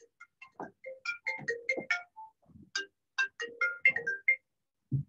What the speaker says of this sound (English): I forget to turn off my phone.